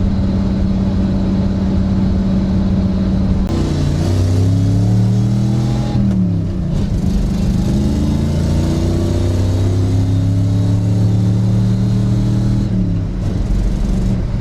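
An older Chevy Nova cruises with its engine droning steadily from inside the cabin, loud and constant, with pitch dips and rises as it shifts and accelerates, and the idle sounding slightly uneven from a misfire.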